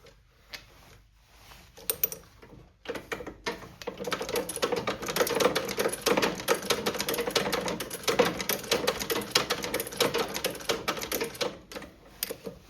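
Antique cobbler's stitching machine in an old Doncaster shoe repair shop sewing through several thicknesses of leather, a fast, steady mechanical clatter that runs for about ten seconds after a few hesitant starts, close and fairly loud.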